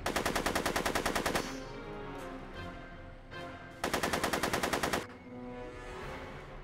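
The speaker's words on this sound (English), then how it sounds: "Are you shooting at me?" Rapid machine-gun bursts from the Back to the Future video game. A loud, evenly spaced stream of shots runs for over a second, drops to a low hum, then a second burst of similar length follows.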